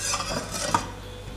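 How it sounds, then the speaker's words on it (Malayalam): Half a litre of milk heating in a pan on a gas stove for a Shahi Tukda sweet, stirred with a utensil that scrapes and clinks softly against the metal over a faint low bubbling hiss. "നമ്മൾ ഒരു പാനിലെ പാല് കാച്ചണം"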